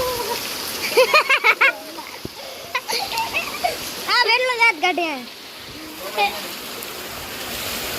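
Steady rain and rushing water make a constant hiss, while someone speaks loudly over it at intervals.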